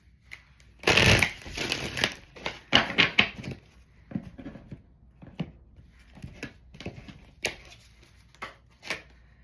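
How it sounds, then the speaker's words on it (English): Tarot cards are shuffled close up in several quick riffling bursts of varied length. One longer flurry comes early, then shorter scattered shuffles follow with quiet gaps between them. "I'm going to shuffle one more time."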